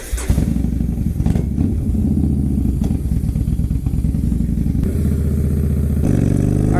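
A used Yamaha Star Bolt motorcycle fitted with a Python exhaust cranks over and settles into a loud, close, chugging idle, with a deeper rumble rising near the end.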